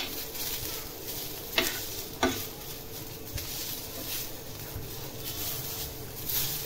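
Whole spices (bay leaf, cinnamon, cloves and black pepper) dry-roasting in a pan for a raw jackfruit masala give a soft, continuous hiss with a couple of sharp clicks as they are stirred.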